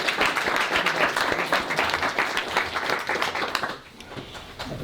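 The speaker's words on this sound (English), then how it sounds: "Let's give Iris a hand of applause." An audience claps for Iris Gilbert at an evening presentation, a dense, steady round of applause from a sizeable crowd that holds for about four seconds and then drops away.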